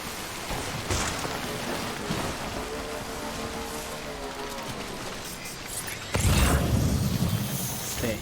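Rain hisses continuously in the video game Death Stranding, with faint tonal music drifting underneath, then swells suddenly louder and fuller near the end as the downpour presses in close.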